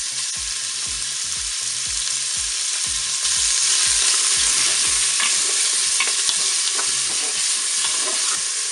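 Tuna sizzles and crackles in hot oil inside a Cookeo multicooker pot, a loud continuous frying hiss with soft scraping that grows slightly louder partway through.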